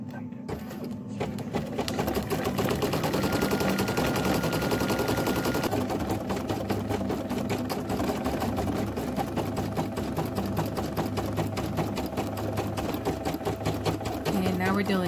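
A Brother PE800 embroidery machine sews a satin stitch appliqué around a bunny ear, its needle hammering in a rapid, steady mechanical rhythm that runs continuously and loud, with a voice talking over it.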